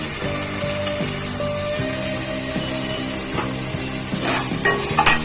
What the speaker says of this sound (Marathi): आणि हे पण जरा असं भाजून घ्यायचंय वाटण.